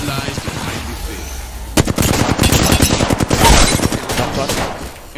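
Close, loud rapid bursts of automatic gunfire in Apex Legends, a stuttering volley of shots after a quieter opening.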